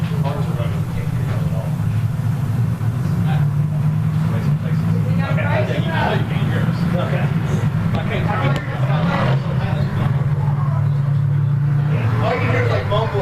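A race car drives around a dirt speedway at a regular race program, a steady engine drone from a distance under nearby crowd chatter and talking.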